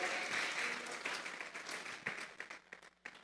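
A church congregation at a Sunday service claps and applauds together, a dense steady wash of hand claps that thins toward the end, fairly distant.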